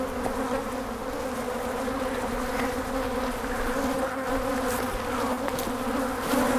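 A swarm of wild bees buzzes continuously around a beekeeper, a dense, steady drone that is close and loud with no pauses.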